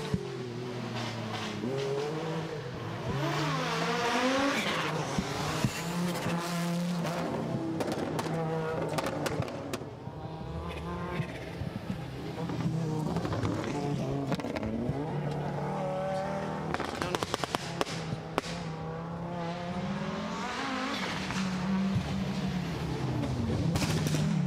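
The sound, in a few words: Audi rally cars driving through Goodwood rally stage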